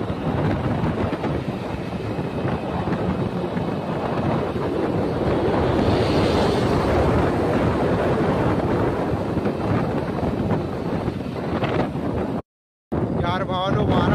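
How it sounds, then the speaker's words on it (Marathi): Strong wind gusting hard outdoors during a storm with water about, a loud steady rushing roar buffeting the microphone for the whole stretch, broken by a brief dropout near the end. "वारा एवढा सुटला आहे हालत खराब आहे"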